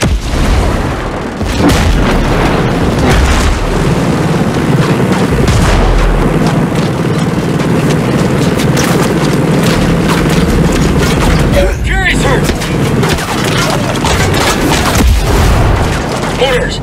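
Mortar rounds explode in Ghost Recon Breakpoint, heavy booms landing amid a constant loud battle roar, with a sharp blast near the middle and voices talking over the din.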